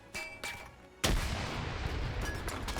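Grenades bursting in an Arma World War II battle game, a couple of muffled thumps and then one loud blast that rolls into a long, rumbling roar of continued explosions and gunfire.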